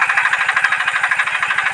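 A diesel water pump running at full speed to drain a pond, a rapid, even thumping chug topped by a bright metallic rattle, close and steady with no pauses.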